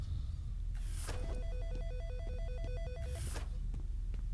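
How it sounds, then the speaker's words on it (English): A telephone rings in the video game F.E.A.R., two bursts of rapid bell-like trills, fairly faint and mid-distance, with a dark ambient hum underneath. "this phone that's ringing right now, that's creepy"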